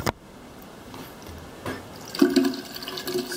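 Water from a bathroom sink tap in a house on a small Bahamian cay runs and splashes into the basin, quiet at first and then louder and uneven, with no voices.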